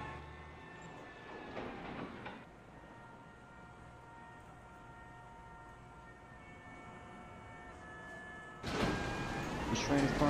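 A subway train rolls along in a Roblox game, with a steady rumbling clatter of wheels and sustained tonal whine, briefly louder bursts of rushing noise near the start and again at the end.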